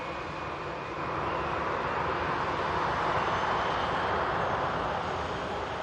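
An EasyJet airliner at Manchester Airport gives a steady, loud jet roar at a distance that swells slightly and holds, with no voices over it.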